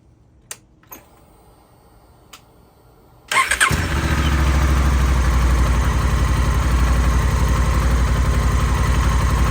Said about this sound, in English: So you are required to start the motorcycle and run it for a minute.